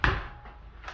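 A wooden drawer in a church sacristy slides open with a short bump and scrape at the start, then a quieter rattle fades out. Nothing else is heard.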